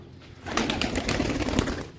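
A pigeon perched on a net up overhead at a rooftop loft gives soft cooing calls, with a faint flutter nearby, steady and moderately close for about two seconds.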